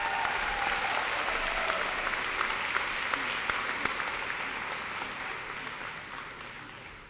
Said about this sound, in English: please give a round of applause to Stanley Kubis Jr.